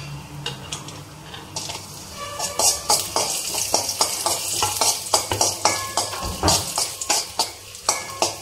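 Food sizzles in hot ghee in a pan while being stirred for Kalkandu Pongal, with steady frying crackle broken by repeated sharp scrapes and clinks of a spoon against the pan.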